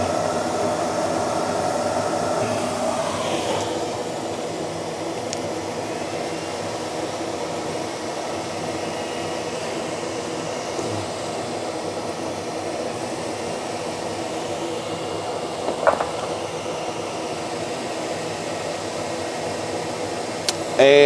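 An xTool D1 Pro laser cuts red acrylic with a continuous whirring, fan-like hum. The hum stays even throughout, with a couple of faint ticks near the end.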